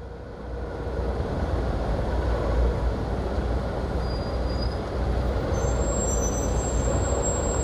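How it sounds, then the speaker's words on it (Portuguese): Heavy traffic with trucks and buses rumbles steadily at a busy signalized intersection on Romualdo Galvão in Natal, a continuous low engine drone with faint brake squeals toward the end. "Trânsitozinho pesado aqui na Romualdo Galvão,"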